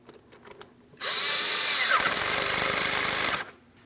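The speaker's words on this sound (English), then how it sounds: "I'm going to tighten my 7mm headed clamp" A power tool tightens a 7mm-headed hose clamp on the intake tube of a 3.7L V6 Ford Transit 250 (2015–2025 model years), giving one continuous, loud whirring run of about two and a half seconds that starts and stops abruptly.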